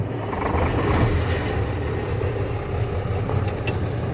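A truck's diesel engine running right after starting, a loud, steady low rumble close by with a few faint high clicks near the end and no talking.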